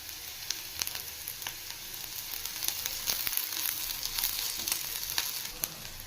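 Onion, garlic and ginger fry in a pan for a chickpea and green pea masala sambar, giving a steady, close oil sizzle dotted with sharp crackles and pops throughout.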